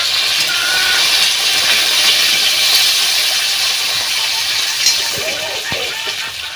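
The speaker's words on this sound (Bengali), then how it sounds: "বেগুনগুলোকেও ভেজে নেব" Eggplant pieces frying in hot oil, making a loud, dense, steady hiss close by, with a few small pops near the end.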